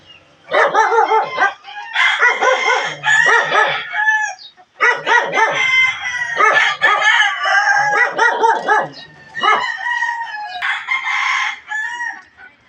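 A yard rooster crows again and again in loud, close bursts separated by short pauses, with barking-like calls mixed in and no talking.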